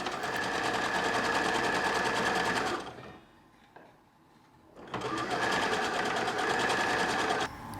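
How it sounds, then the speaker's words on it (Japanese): A sewing machine stitches the facing hem of a gauze jacket, running steadily and loudly, pausing for about two seconds, then whirring again at full speed. "見返しの裾を縫おう。"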